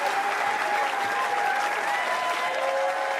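Steady, dense applause from a crowd at the PBA U.S. Open bowling stepladder finals, given for bowler Jake after his game, sustained and fairly close throughout with no clear voices standing out.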